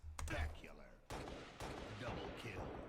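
Sniper rifle shots in a video game: a few sharp, loud reports at irregular intervals, each with a dense, noisy tail, and no talking over them.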